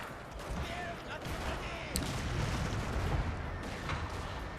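Enemy rifle fire and artillery hit troops in a Total War: Shogun 2 Fall of the Samurai battle, a dense, continuous crackle of distant shots and booms with a sharper burst near the middle, under someone talking.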